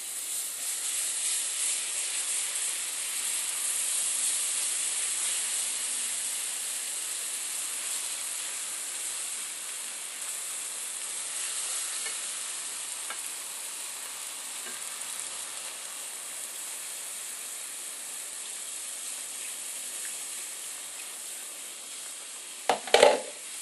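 Milk is poured slowly into a hot flour roux for smoked mac and cheese, and the pan gives a steady, bright sizzle and hiss while the mixture is stirred, with a short clatter near the end.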